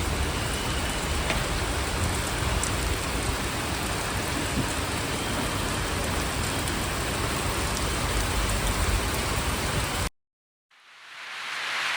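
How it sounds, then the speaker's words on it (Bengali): Heavy rain pouring steadily, a dense, loud, even hiss of drops on surfaces that carries on without pause for about ten seconds before cutting off abruptly. "ভালোই জোরে বৃষ্টি পড়ছে"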